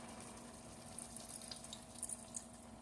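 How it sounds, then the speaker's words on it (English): Water from a tap runs steadily into a cooking pot in a home kitchen, a faint, continuous trickle with a few small splashes and no talk. "So I'm going to go ahead and add a little bit more water."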